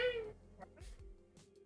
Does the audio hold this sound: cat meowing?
yes